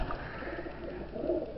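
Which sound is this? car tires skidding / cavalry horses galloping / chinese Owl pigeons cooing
chinese Owl pigeons cooing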